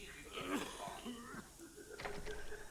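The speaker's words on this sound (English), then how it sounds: "More coughing." A person coughs and clears their throat a few times, quiet and close, mixed in with talking.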